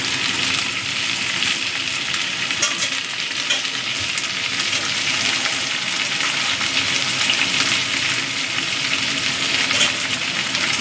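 Boiled chickpeas and tomato frying in a pan, a steady close hiss and sizzle with occasional stirring scrapes, continuous throughout.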